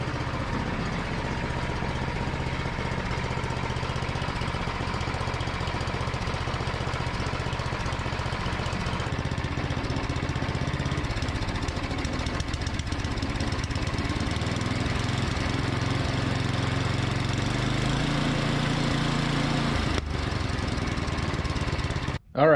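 A Craftsman MTD snowblower with a Tecumseh engine runs steadily without the choke, a loud continuous mid-pitched engine drone with a slight knocking rumble that holds for over twenty seconds before cutting off abruptly at the end.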